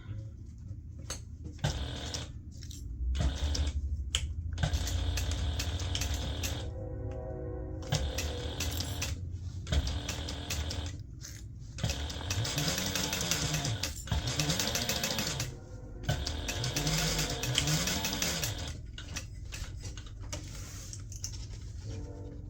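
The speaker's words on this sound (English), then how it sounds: "we're going to sew this together using a 1/2 inch seam allowance" A sewing machine runs in long bursts while stitching the side seam of a large fabric gift bag, its motor whirring steadily with brief pauses between runs and faint clicks and taps in the gaps.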